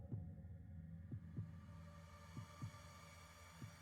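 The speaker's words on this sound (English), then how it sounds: "As you begin hearing your own heartbeat growing louder than the other sounds around" A heartbeat sound effect, low double thumps repeating at a steady slow pulse over a soft, constant hum, played alone without any voices.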